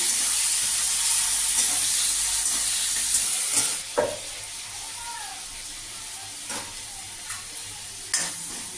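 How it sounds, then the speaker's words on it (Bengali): Loud, bright hissing sizzle of shrimp frying in hot oil, dropping after a few seconds to a softer crackle with a few light clinks. "এবার আমি চিংড়ি মাছটা হালকা করে ভেজে উঠিয়ে নেব"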